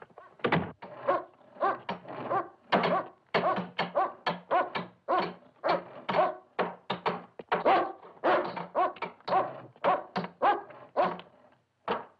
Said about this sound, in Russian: Кажется, ваша собака проголодалась, майор Роджерс.